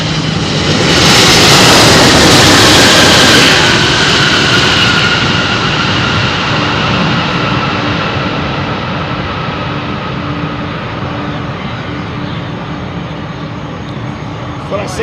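A jet landing at Louisville airport roars loudly overhead near the runway, swelling early, then fading into a lingering engine whine and rumble as it rolls out, with voices talking over it.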